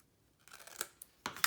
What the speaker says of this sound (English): Now I can go in with my scissors.